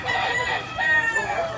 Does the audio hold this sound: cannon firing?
no